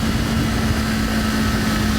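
A 2024 Kawasaki Ninja 500 motorcycle engine holds a steady, loud droning hum with a constant tone, heard up close while riding and easing down in speed.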